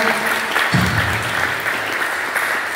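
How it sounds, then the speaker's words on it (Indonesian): An audience at a school presentation gives a short burst of applause, dense and steady clapping filling the room. "boleh dong berikan tepuk tangan buat Niko sama Desa"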